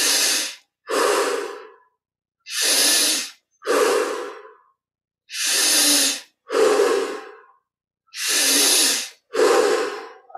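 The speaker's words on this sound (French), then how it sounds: "Le corps respire. On devient témoin de ces grandes respirations." Deep, slow breaths during a guided Kriya Yoga meditation, four full cycles of loud, close inhales and exhales through the nose, each followed by silence, with no talking.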